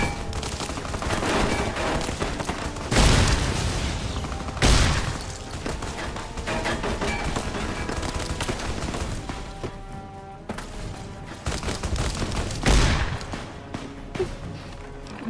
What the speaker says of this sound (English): Not me trying to snipe with my shotgun.